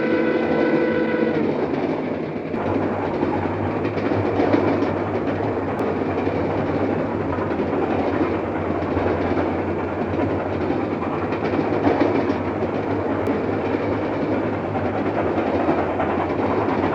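Northern Pacific steam locomotive 1070 rolls past with its train, making a steady, loud rumble and a rattling clatter of cars that holds evenly throughout with no voices.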